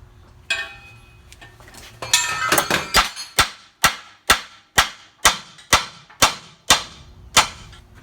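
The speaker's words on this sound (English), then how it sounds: "I'm going to stick this nut right here upside down. And give it a little tap." A hammer taps repeatedly on an upside-down nut threaded onto a car suspension part, about ten sharp metallic strikes in a steady rhythm following some handling clatter, loud and close.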